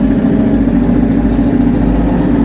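A Ducati Panigale V4 idles with an aggressive aftermarket exhaust, a loud, dense, low rumbling drone that holds steady and close throughout without any revving.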